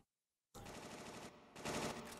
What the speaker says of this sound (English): Gunfire? Sounds pretty bad.